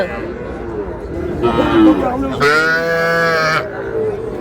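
Young bulls and heifer calves lowing close by, a short moo followed by a longer, louder one, over a busy background murmur of the crowded Ambari cattle market.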